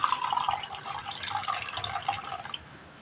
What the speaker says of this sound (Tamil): பாருங்க தண்ணி ஊற்றுறேன்.